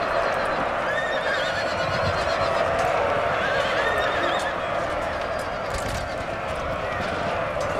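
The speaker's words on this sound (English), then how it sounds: "So many men and horses dying" Horses whinnying amid the din of a Napoleonic cavalry battle in Napoleon: Total War, steady dense battle noise throughout with a few distinct neighs rising above the clamor.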